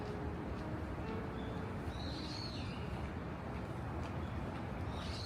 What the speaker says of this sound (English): Birds are awfully noisy this morning